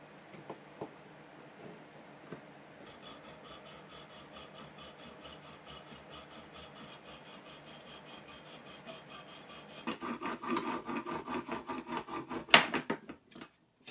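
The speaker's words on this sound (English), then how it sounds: "I've got my saw. So hopefully we can cut these pieces apart." A hand saw cuts apart pieces of a 50-year-old carnival ride, its strokes rasping softly and steadily, then growing louder and more rhythmic toward the end, with no talking.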